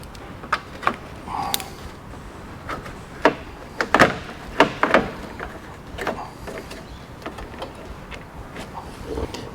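A plastic trim piece is pried off the front end of a Ford BF mkII XR8 ute, giving irregular creaks, snaps and sharp plastic clicks in scattered bursts at close range.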